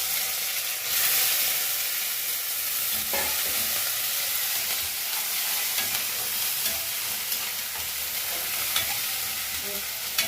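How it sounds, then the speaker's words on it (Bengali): Ginger and green chillies fry in oil with panch phoron and peanuts, giving a loud, steady sizzle and crackle throughout, with occasional faint stirring knocks. "এটাকে একটু ভালো করে লাল লাল করে একটু ভেজে নেব।"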